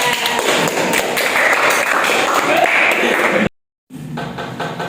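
Children clap together in a classroom for about three and a half seconds, a dense patter of hands that cuts off abruptly into a short silence before a lower murmur of room noise resumes.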